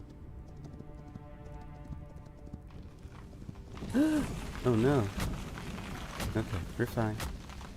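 Horse hooves clip-clop in the video game Hytale, a steady trotting patter heard fairly close amid ambient game sounds, while a player speaks over it.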